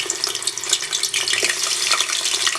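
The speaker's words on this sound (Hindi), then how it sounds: "इसमें हम चिकन डाल लेते हैं फ्राई करने के लिए।" Chicken pieces frying in hot oil in a home kitchen pan produce a dense, bright sizzle with crackling pops. It is close and steady throughout, with no talking.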